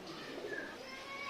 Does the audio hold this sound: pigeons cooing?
yes